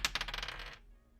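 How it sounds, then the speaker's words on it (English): Real dice roll on a table during a tabletop role-playing game session, a quick rattling burst of small hard clicks that fades out within a second, with one faint click after, close and quiet. "I hear real life dice rolling."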